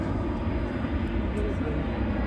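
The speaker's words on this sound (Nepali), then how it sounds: "यहाँ चाहिँ खतरावाला प्लेन उडिरहेको छ हो यो चाहिँ कुन चाहिँ हो आर्मीको प्लेन जस्तो छ" A military-looking airplane flies overhead, giving a loud, steady engine roar that fills the whole short stretch without pause.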